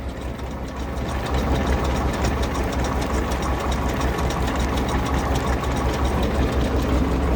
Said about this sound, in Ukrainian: Їжджу я на першій пониженні. От, як колесо ледве крутиться на холостих оборотах.